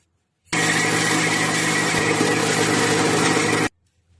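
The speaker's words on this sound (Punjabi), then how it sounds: "ਇਹ ਦਾਲ ਜੀ ਦਾ ਪਾ ਲਵਾਂਗੇ ਇਹਨੂੰ ਵੀ ਆਪਾਂ ਪੀਸ ਲਵਾਂਗੇ" A mixer grinder grinds soaked urad dal (black gram) for bhalle, a loud steady motor whir starting abruptly, running about three seconds at constant pitch, then cutting off cleanly, with no talking.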